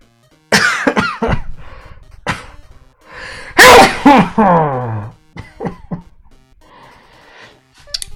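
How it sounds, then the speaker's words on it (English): A person sneezing and coughing at close range, a series of sharp bursts with one loud wheezy sneeze in the middle, followed by smaller throat-clearing coughs. "I'm about to sneeze."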